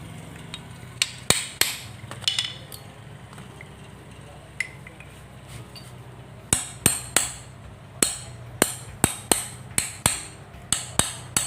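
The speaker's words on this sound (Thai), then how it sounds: "ค่อยๆตอกลงไปนะครับ" Sharp metallic hammer taps in irregular bursts, then a quicker run of evenly spaced strikes, close by with no voices, as a shock absorber seal on a Honda Wave 100/110i motorcycle is tapped into place.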